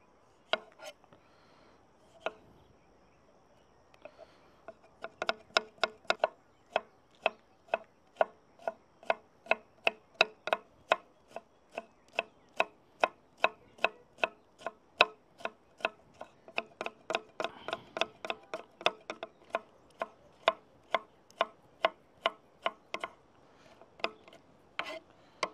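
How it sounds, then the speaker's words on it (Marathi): A knife finely chops tomatoes on a board for a Nashik-style misal, with a long run of quick, crisp, evenly spaced strokes close by and no talking. "आपण आता टमाटर बारीक चिरून घेऊ।"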